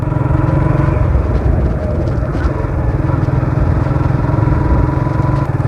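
A Suzuki motorcycle engine drones loudly and steadily while riding through the countryside, a constant low rumble with wind noise throughout.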